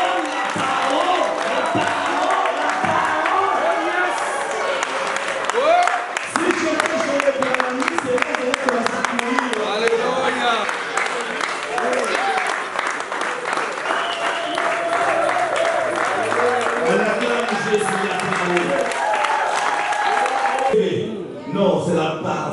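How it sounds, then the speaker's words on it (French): A church congregation bursts into sustained, loud applause and cheering that fills the whole stretch, with a voice speaking over the crowd near the end. "On acclame la parole de Dieu. On acclame la parole."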